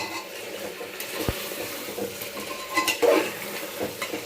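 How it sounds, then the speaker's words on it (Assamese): Spice paste and finely cooked onions fry in oil in a pot for mutton curry. A soft sizzle runs under occasional scrapes and knocks of a spoon stirring, with no talking. "মছলাখিনি তেলত ভালকৈ ভাজ খাই গৈছে"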